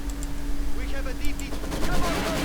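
Bursts of gunfire in Company of Heroes 2 crackle in rapid succession over a constant electronic hum and busy background sound.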